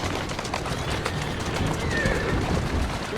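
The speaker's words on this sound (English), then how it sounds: "Who's a good horse?" A horse whinnies in Assassin's Creed Syndicate on the streets of Victorian London, with hooves clip-clopping under a busy ambient background throughout.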